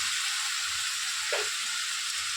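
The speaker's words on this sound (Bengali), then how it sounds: "এটা ভাজা করতে দিলাম" Fish roe sizzling in oil in a pan, a constant loud hiss from close by with one soft dull knock partway through and no speech.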